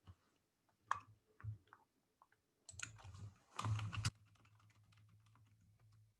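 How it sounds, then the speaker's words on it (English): Someone types on a computer keyboard close by, in scattered bursts of quick clicks with short pauses between them, then a dense run of keystrokes, followed by a faint steady hum. "please excuse my typing as I pull up a document to share with you"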